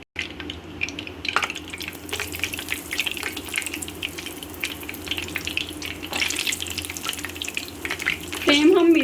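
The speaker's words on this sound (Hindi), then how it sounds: "ऑयल हमारा गर्म हो गया है। अब हम इसमें नगेट्स डाल देंगे।" Potato nuggets shallow frying in hot oil over a medium flame, giving a steady close sizzle and crackle throughout, with a sharper burst of spattering near the end.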